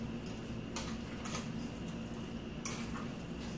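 Chopped tomatoes for guacamole stirred in a bowl, soft wet squishing under a constant background hum, with a few brief clinks of utensil against the bowl.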